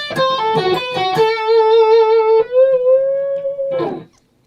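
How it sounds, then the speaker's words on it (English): A blues riff on distorted electric guitar: a few quick picked notes, then a long sustained note that bends slightly and slides down at the end, played alone and fairly loud. "But it's a blues riff"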